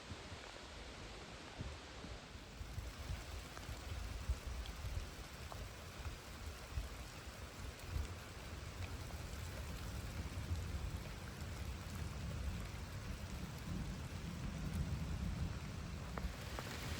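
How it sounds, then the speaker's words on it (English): Steady rain pours down during a thunderstorm, a dense continuous hiss of drops hitting surfaces that stays fairly loud and even throughout, with low rumbling weight underneath. "the rain just came out"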